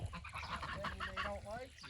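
Geese honk repeatedly in a small flock in a paddock, the close, nasal calls overlapping in a steady busy chorus, with faint human talk in the background.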